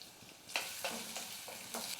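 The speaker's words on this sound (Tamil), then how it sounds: "இந்த வெங்காயத்தை சேர்த்துக்கிறேன்" Finely chopped small onions fry with green chili and garlic in a pan, a soft continuous sizzle with a few stirring scrapes, close and fairly quiet.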